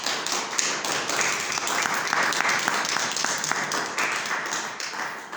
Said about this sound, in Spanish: Un fuerte aplauso a nuestro Señor Jesucristo.